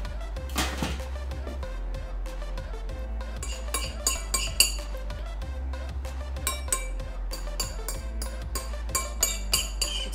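Plates and cutlery clink faintly and intermittently while miso chicken is plated in a home kitchen, scattered light clicks over a low steady background hum.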